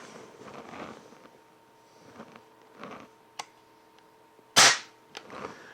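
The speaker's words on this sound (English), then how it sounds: "We'll aim the gun at our desired target, release the safety, and gently squeeze the trigger." A Crosman TR77 air rifle fires once with a sharp, loud crack, set among quieter clicks and handling noises before and after.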